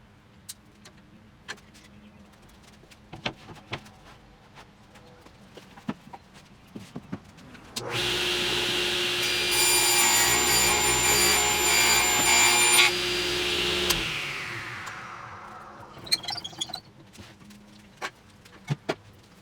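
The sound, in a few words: power tool cutting MDF board for guitar body template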